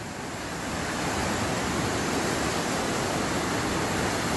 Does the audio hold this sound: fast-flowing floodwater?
yes